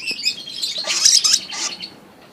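Young lovebird chicks, red-eyed lutino type, give a short burst of high, close chirps and squeaky calls from the nest box, loud and alone.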